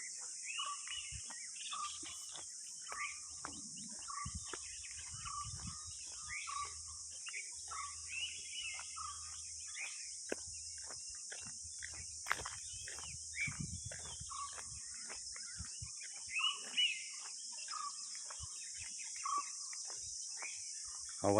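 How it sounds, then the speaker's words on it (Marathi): Birds chirp and twitter repeatedly over a constant high shrill of crickets during a morning walk in rural Konkan, the calls moderately near and layered, with faint low sounds in the background. "आवाज येत असेल तुम्हाला पक्ष्यांचे वगैरे"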